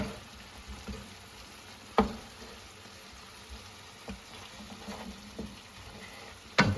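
Butter melts into a sizzling pan sauce of Italian sausage, chicken and peppers, a low steady frying hiss broken by a few sharp spatula clicks and stirs, close by with no talk.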